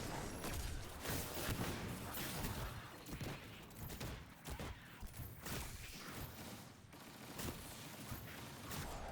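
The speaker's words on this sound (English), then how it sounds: "we're just going to break the void shield with the sniper rifle" Sniper rifle fire breaking a void shield in Destiny 2 during a legendary lost sector, dense game combat with repeated sharp shots and impacts layered over a busy, steady background of effects.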